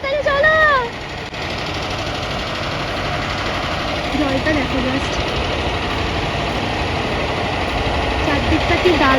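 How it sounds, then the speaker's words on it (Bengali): A ferry launch's engine rumbles steadily as the boat pulls in at a river ghat between Dakhineswar and Belur, a loud continuous drone filling the whole stretch while people talk over it. "আমাদের লঞ্চ এসে গেছে"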